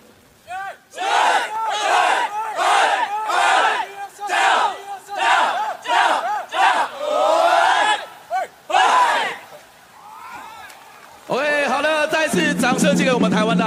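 A university baseball team shouts a pre-game chant before a crowd at a ballpark, rhythmic bursts of massed voices in call-and-response pulses, loud and near, closing with a swell of cheering.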